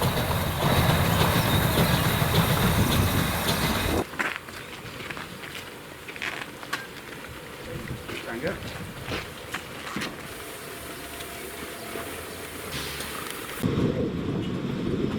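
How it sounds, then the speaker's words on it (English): A narrow gauge steam locomotive on the Weisseritz Valley Railway running near a run-around loop: loud rumbling passage at first, then quieter clanks and rattles in the distance before the rumble swells again near the end. "the locomotive had a run around here and head back to Friedtal"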